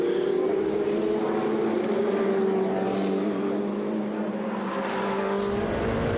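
Ferrari 488 Challenge race car engine at full racing speed on the Valencia circuit, a steady loud droning roar with strong sustained tone and faint shifting pitch, continuous for the whole stretch.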